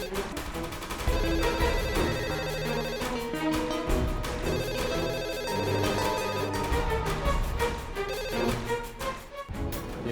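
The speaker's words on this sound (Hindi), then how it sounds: "ये राधा फ़ोन क्यों नहीं उठा रही?" Telephone ringing unanswered inside a house, heard under a continuous dramatic music score; the ring repeats steadily through the whole stretch at moderate loudness.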